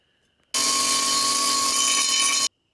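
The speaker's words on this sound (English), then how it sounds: "So I'm gonna grind it down and then just go over it lightly again." Angle grinder grinding down rough welds on a B230F turbo exhaust downpipe, one steady loud burst of about two seconds with a constant high whine, starting and stopping abruptly.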